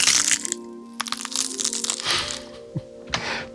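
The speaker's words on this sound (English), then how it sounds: "we did the bones breaking. I want to show you how it sounds without the low pass first" An unfiltered bone-breaking sound effect gives off sharp, bright cracks and crunching snaps in quick irregular bursts, with a few louder crackles and quieter splintering between them.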